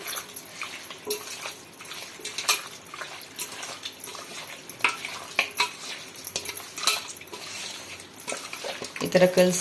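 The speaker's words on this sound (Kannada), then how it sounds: "ಇದೆಲ್ಲ ಸೇರಿಸಿ ಚೆನ್ನಾಗಿ ಮಿಕ್ಸ್ ಮಾಡಿ ಈ ಥರ ಕಲಸಿ" Raw chicken being mixed by hand with salt and turmeric, with wet squelching and slapping sounds in a bowl, close and continuous, accompanied by a few soft clinks near the end.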